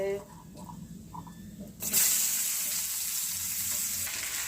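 Onions drop into hot oil in a kadai already seasoned with garam masala and burst into a loud, close sizzle that holds steady. Someone speaks briefly over soft clinks just before the onions go in.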